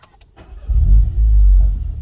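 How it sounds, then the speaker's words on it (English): Volkswagen Golf R MK8 with a six-speed manual starting up, a brief crank followed by a loud low engine catch and rev that settles toward idle, close and alone. "Start button's right here. So we put our foot on the clutch."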